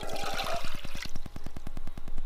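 Water pours from a cup into a cooking pan in a close, splashing rush that lasts about a second and then gives way to a rapid, rhythmic bubbling trickle.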